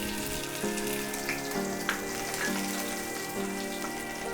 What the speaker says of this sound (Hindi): अब मेरा लहसुन भुन रहा है